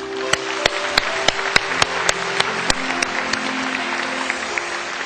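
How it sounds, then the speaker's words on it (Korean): Church congregation applauding, a broad wash of clapping with a few sharp, loud claps standing out at irregular intervals over a steady background hum. "하나님께 영광의 박수 부탁합니다"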